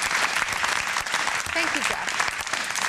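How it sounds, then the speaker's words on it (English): Applause breaks out during a talk show segment, a steady wash of clapping lasting throughout, with a voice briefly speaking over it. "That is an unsanctioned applause."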